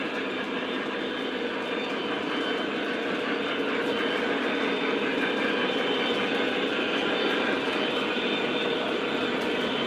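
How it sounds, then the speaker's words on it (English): MTH model streetcar under DCS command control running around a loop of toy track, a constant close whirring hum and rolling rattle that holds steady the whole time, no voices. "let's get the streetcar going here. This is an MTH streetcar."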